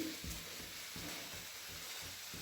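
Chillies fry in a hot pan with a steady, close sizzle and soft crackle, punctuated by faint low bumps of stirring, and no one speaks.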